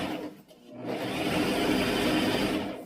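A sewing machine runs while stitching a dress, its needle unthreaded: a close, steady motor whir with a fast mechanical rattle that starts, briefly dips, then holds for about two seconds.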